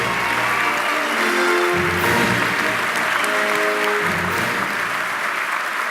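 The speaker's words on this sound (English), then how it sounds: "Let's give them a round of applause." A crowd at a competition event gives a sustained, loud round of applause for performing airmen, dense clapping throughout with a few faint tonal sounds mixed underneath.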